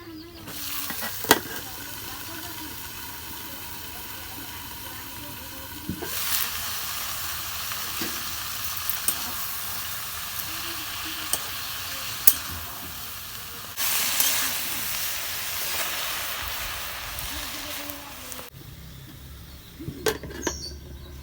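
Banana stem fries with browned onions in a pan, a continuous sizzle and hiss that swells when fresh pieces go in, with occasional clinks and scrapes of a spoon.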